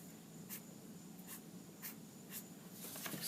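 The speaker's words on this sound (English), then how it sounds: "We don't have to draw them in pencil. We can just draw them in pen." Pen strokes scratching across paper while a freeform drawing or placemat is made, a few short faint scribbles repeating at an uneven pace over a quiet low room hum.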